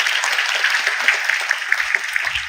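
An audience at an indoor parenting seminar breaks into sustained applause, a steady wash of many hands clapping at once, loud and continuous throughout.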